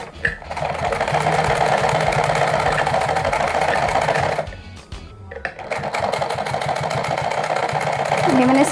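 Sewing machine stitching a 2-inch-wide strip of fabric for a lehenga chunri, running in a steady rapid whir close by, with a brief pause midway before resuming.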